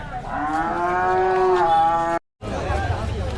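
Cattle moo loudly and steadily at a busy village cattle haat in Hozrotpur, Bangladesh, a single long low call followed by a brief dropout and then the murmur of the market crowd.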